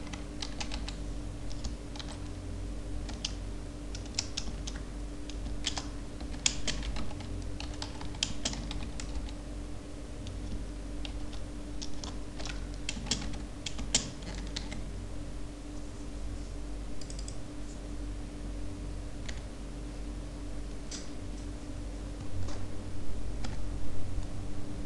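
Steady typing on a computer keyboard, with quick irregular key clicks close by over a low hum, continuing throughout without speech.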